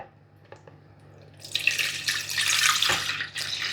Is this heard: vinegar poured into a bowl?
yes